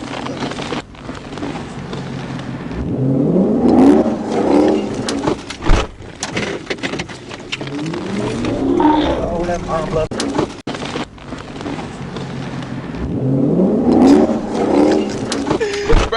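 A car engine at a car meet revs loudly in two strong rising bursts separated by a lower idle. People talk and shout over it close by.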